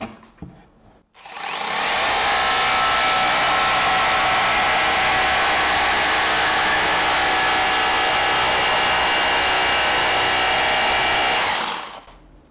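A Bosch jigsaw with a Basic for Wood blade cutting a 19 mm chipboard panel, a loud, steady high-pitched whine and buzz close up, starting after a brief pause and running evenly for about ten seconds before stopping.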